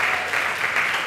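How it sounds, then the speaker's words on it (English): A church congregation applauding during an evangelist's sermon, a short burst of many hands clapping in a continuous, fairly loud wash that swells slightly and fades. "Clap, you want to clap."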